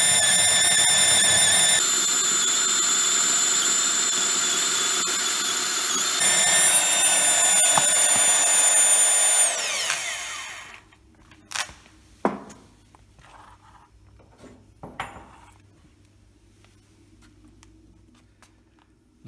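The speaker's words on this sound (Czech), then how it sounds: "Vrták si najde cestu a pak už se dá zabrat." A magnetic core drill enlarging a hole gives a loud, steady high-pitched whine with bright overtones for about ten seconds, its pitch shifting slightly before spinning down and fading, followed by a few sharp clicks and knocks in near silence.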